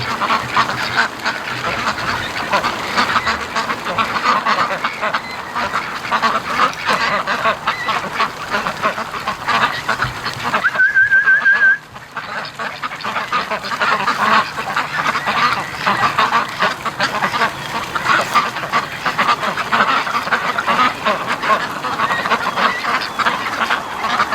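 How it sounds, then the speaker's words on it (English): A dense chorus of farm-raised ducks coming home in a swamp, quacking and honking continuously, fairly loud and close, with a brief higher tone briefly cutting through midway. "The duck train coming over."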